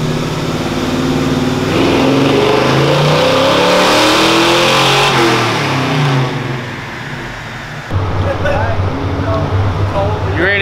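A pickup truck engine revs loudly nearby at a dyno day event, rising and falling in pitch, with a second surge toward the end and voices faintly mixed in.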